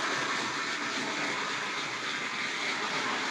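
A Tri-ang or Hornby Dublo model train runs around its layout, giving a steady, even motor whir and rumble that holds at the same level throughout, with no voices.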